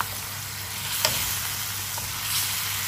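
Paksiw with soy sauce and a little vinegar is stirred in a pan over heat, giving a constant loud sizzle with a few small clinks and scrapes of the spoon and no voices.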